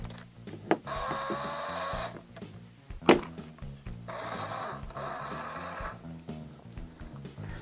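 A 1970 LEGO 311 remote control car's small electric motor runs with a steady mechanical whirr and rattle, broken by brief pauses and a couple of sharp clicks.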